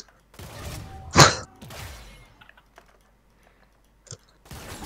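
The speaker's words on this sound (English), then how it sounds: "I can't be bothered listening to him typing." A computer keyboard is typed on over an online game's voice chat, heard as scattered clicks and a few loud, close thumping bursts separated by quiet gaps.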